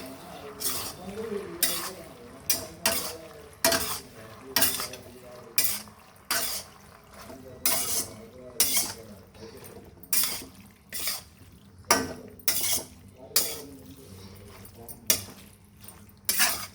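Boiled pasta gets stirred in a pan, with a steady rhythm of repeated scraping and clinking strokes of a spoon against metal; a person talks quietly underneath.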